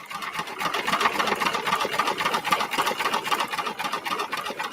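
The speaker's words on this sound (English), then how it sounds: "I'll let it stitch all the way out so you can see how it looks today." A home embroidery machine stitches a letter for a Valentine's love banner, a loud, steady, fast mechanical whirring with a rapid needle rhythm, alone and unbroken throughout.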